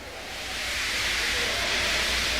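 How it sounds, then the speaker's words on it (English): A steam locomotive feebly lets off steam, a soft, continuous broadband hiss that swells slightly at the start and then holds steady for a couple of seconds, with no voices over it. "He just let off steam feebly."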